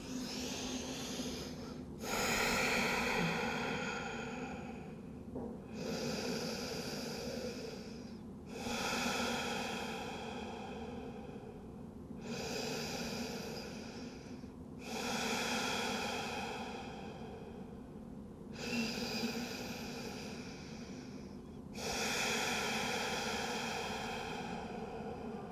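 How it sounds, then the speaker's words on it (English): Slow, deep breathing held in child's pose during a shoulder and upper back stretching session, with about seven long, close airy breaths in a steady rhythm over a low room hum. "let's take a few breaths in the child's pose"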